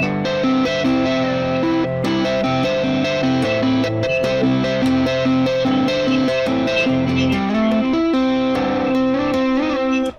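Electric guitar riff played with two-hand tapping and a capo, one hand holding a repeating ostinato high on the neck while the other taps a syncopated rhythm, heavily processed with effects and distortion, loud, continuous and alone for about ten seconds.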